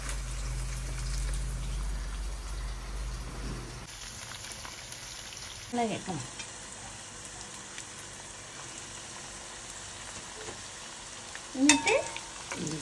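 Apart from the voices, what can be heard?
garlic, ginger and green chilli frying in a pan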